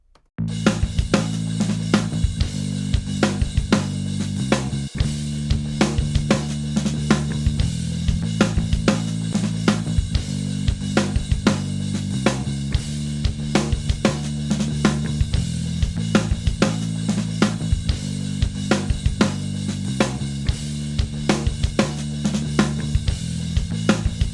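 Bass guitar in a full music mix with ducking, its low end dipping briefly under each kick hit for a subtle rhythmic pumping feel throughout.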